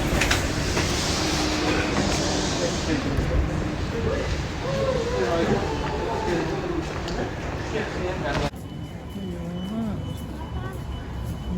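A train rumbles by with rail noise and rattling, then the sound drops abruptly to a quieter interior hum as people talk over it.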